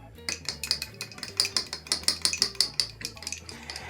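A big spoon stirs hot chocolate in a mug, clinking against the sides in a quick, steady rhythm of close, bright scrapes and taps, with no talking.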